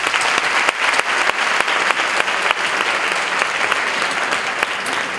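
Audience at a Latino film awards ceremony giving loud, dense applause for absent award winners, continuous and steady throughout.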